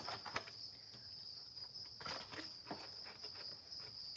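Baby crickets hatching in bins, a faint steady high insect chirr with soft patter and rustling over a quiet background, no talking.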